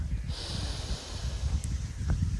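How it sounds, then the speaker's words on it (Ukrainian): A deep breath drawn in during a relaxation practice, a soft airy inhale close to the mic, alone and without speech. "Зроби глибокий вдих."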